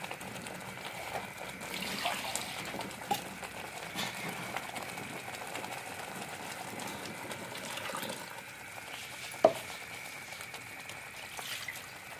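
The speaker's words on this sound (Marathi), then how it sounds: "जरासा पाणी टाकतोय" Water trickles and splashes softly into a pan of curry made with fresh tender cashew kernels, a faint continuous pour with one sharp clink partway through.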